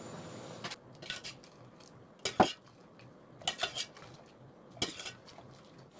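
Ladle or strainer clinking against a metal pot while lifting dried pollock heads and anchovies out of simmering broth; several short, sharp metallic knocks spaced irregularly over a quiet kitchen background.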